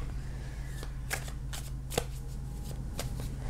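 Tarot cards are shuffled and picked by hand close up, with a series of soft riffling flicks and light card slaps over a faint steady background hum.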